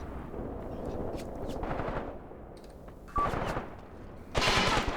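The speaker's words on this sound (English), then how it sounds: "Engaging this gun at close range and missing." Gunfire at close range in the tank war game Graviteam Tactics, heard as several sharp, loud reports over a steady rumbling battle bed, with a louder blast near the end.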